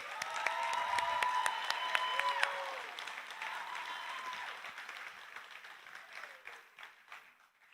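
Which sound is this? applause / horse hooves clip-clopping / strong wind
applause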